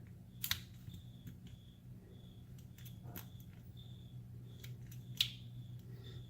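A Sas Pes 008 lock is being picked, with small, sharp metallic clicks and taps at irregular intervals, close and quiet over a faint background hum.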